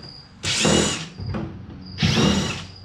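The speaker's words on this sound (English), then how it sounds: "So all you gotta do is just start popping screws out." Power drill backing screws out of a plastic flatscreen TV casing: two loud, close whirring bursts about a second each with a short blip between, a high motor whine over grinding.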